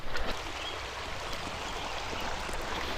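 A small trout creek flowing, its steady broadband rush and babble filling the scene at even loudness with no voices.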